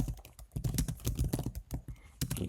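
Quick, uneven keystrokes on a computer keyboard as a folder name is typed, a close, clattering burst of taps with short pauses between, no speech.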